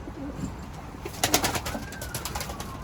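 Tumbler and Adana pigeons in a loft, faint soft cooing with a brief burst of wing flapping and fluttering near the middle, heard close amid quiet background.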